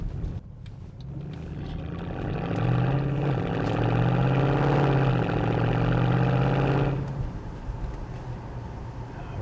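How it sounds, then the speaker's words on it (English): A 2012 Mercedes C63 AMG 451 coupe's engine and exhaust hold a steady, lively drone that swells louder midway and then eases off, with no talk over it. "what a lively sound from the exhaust"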